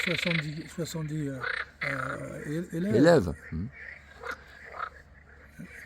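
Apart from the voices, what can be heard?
frogs croaking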